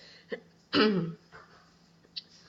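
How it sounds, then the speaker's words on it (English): A lone person gives a single harsh, close cough, framed by a few soft throat and breath sounds before and after, in an otherwise quiet room with a faint steady hum. "Sorry about my cough, guys."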